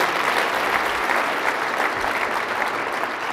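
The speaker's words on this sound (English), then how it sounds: "Give them a big round of applause for all they do." A crowd at a downtown association's annual state-of-downtown address gives a big round of applause, brisk, continuous clapping from many people, loud and uninterrupted for the full few seconds.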